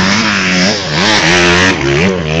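An off-road vehicle engine revs loud and close, rising and falling in pitch through several quick throttle blips in a row.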